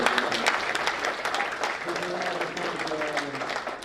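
Audience applause at a general meeting, a steady wash of clapping at moderate loudness running throughout with faint voices beneath.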